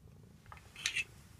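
A house cat gives a short, high meow. It is one brief, fairly quiet call over low background rumble, with no talking during the sound.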